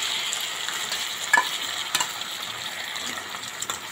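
Chickpeas being sautéed in a ginger-garlic spice paste in a pan, making a soft continuous sizzle with occasional light stirring clicks and scrapes.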